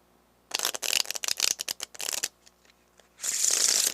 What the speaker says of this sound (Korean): 이거를 리플 셔플이라고 합니다